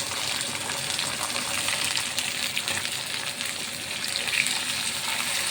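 Tomatoes, green chillies and curry leaves sizzle steadily with onion in a pan for dal fry, a dense, even crackle that holds from start to finish without voices.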